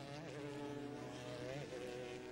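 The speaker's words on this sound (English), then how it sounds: "C5 distinctive engine note" Corvette C5 GTS-class race car engine at the Sebring 12 Hours, a steady loud droning note with strong harmonics that shifts pitch slightly as it passes, close and continuous.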